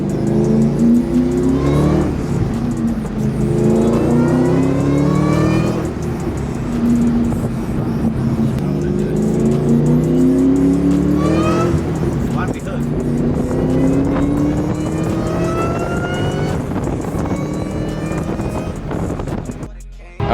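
First-generation 5.0 car accelerates hard in repeated pulls, its engine note climbing in pitch through each gear before dropping and rising again, loud and close, with a voice talking over part of it.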